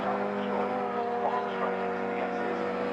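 Honda Civic Cup race cars circulate at Castle Combe, a steady mid-distance engine drone with shifting pitch as cars pass, running under a commentator's voice.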